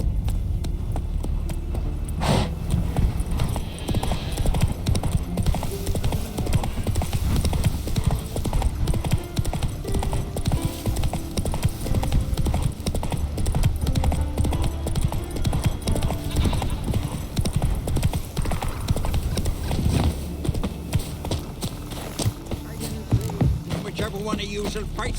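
Horse hooves clip-clopping at a steady gallop in The Witcher 3, a continuous rhythmic pounding throughout with game ambience and occasional voices underneath.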